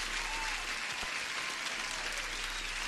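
Stock applause sound effect, a steady even hiss of many hands clapping at a distance, dense and unbroken, with no voices heard.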